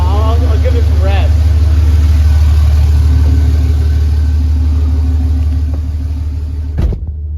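A Cummins diesel engine runs steadily inside a garage, a loud low rumble that holds for about seven seconds before cutting off abruptly, with brief voices heard early on.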